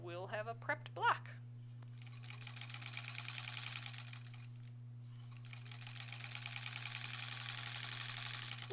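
A sewing machine quilts a fabric block in long, steady runs after a few brief sounds at the start, with a constant low hum underneath.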